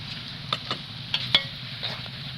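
Frying pickle mixture of Indian gooseberry in a pan as turmeric and chili powder go in, with a steady low sizzle and a few light spoon clinks against the pan, close and fairly quiet.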